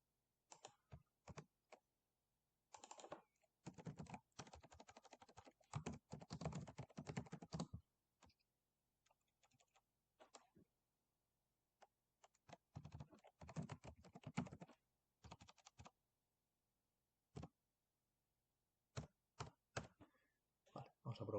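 Code is typed on a computer keyboard in quick bursts of soft clicking keystrokes, broken by short pauses and one longer gap, close and fairly quiet.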